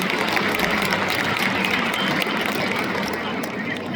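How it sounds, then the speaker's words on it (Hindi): An audience clapping loudly in welcome at a gathering, a broad, continuous patter of many hands that fills the space and stays strong throughout. "जोर से ताली बजा करके अभिवादन करते हैं।"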